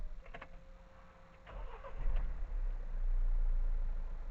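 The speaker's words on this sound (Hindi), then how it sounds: "ब्रेक प्रेस करो, कार को हमने किया स्टार्ट।" A 2020 Mahindra Thar with a 2.2-litre diesel engine starts up, giving a brief crank that catches into a steady low diesel rumble, heard close and alone.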